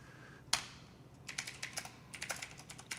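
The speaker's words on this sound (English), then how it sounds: "I'm not that fast of a typer live when people are watching" Someone types C++ code on a computer keyboard during a live coding session. One sharp key strike is followed by bursts of quick, close, quiet keystrokes in irregular clusters, with no talking.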